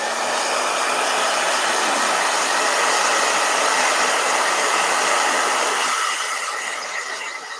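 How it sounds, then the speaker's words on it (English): A blow dryer roars loud and steady, close and continuous, while drying an acrylic gouache painting, then tapers slightly toward the end. "Blow dryer."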